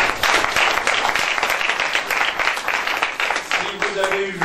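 An audience at a university open day panel applauds the vice-rector with dense, sustained clapping filling the room, with voices faintly mixed in.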